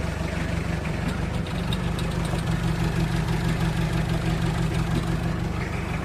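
A modified Ford jeep engine idles steadily with a rough, rumbling knock running through it, close and continuous, single muffler, no voices.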